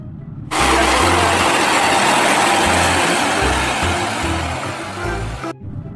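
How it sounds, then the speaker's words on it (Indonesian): A toy tow truck makes a loud, continuous electronic engine sound, a steady roar with a pulsing low rumble underneath that cuts off abruptly after about five seconds. "Kalau yang ini mobil derek."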